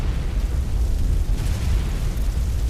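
Fire effect on a Walt Disney World ride, where a covered match ignites into an inferno: a loud, sustained roaring rumble with deep low-end boom and crackle that holds steady with no pause.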